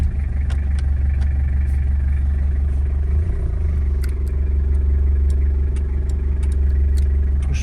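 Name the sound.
1990 Toyota Hilux Surf 3L diesel engine idling after starting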